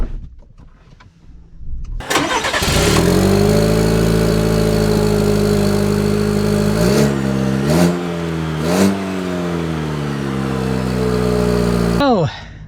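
The 4-cylinder engine of a 2025 Chevy Silverado Trail Boss Custom cranks, catches and settles into a loud, close steady drone, with a couple of brief rev swells before it fades near the end.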